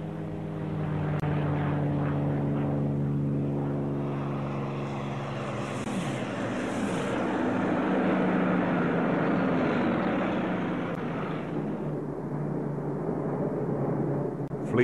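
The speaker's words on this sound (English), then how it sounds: "the German Air Force attacked Britain with its bombers. The 109 was to act as escort." WWII Luftwaffe bombers escorted by Messerschmitt Bf 109 fighters in flight over Britain in 1940, a loud, steady droning of piston propeller engines that swells and holds for a long pass, no talking.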